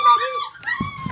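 A puppy whimpers and whines close up in high, wavering tones, a brief run of soft cries with faint rustling beneath.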